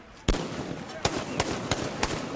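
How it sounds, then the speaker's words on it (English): Gunfire cracks during a street battle at a burning compound in Tripoli, a handful of sharp separate shots spaced irregularly over a murmuring background. "A barrage of bullets fired from inside the compound."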